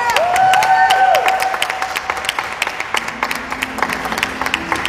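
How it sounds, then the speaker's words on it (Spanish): An audience applauds at a Tijuana market event, a dense steady wash of clapping that carries a tonal sweep early on and thins into scattered claps toward the end. "Un fuerte aplauso, por favor."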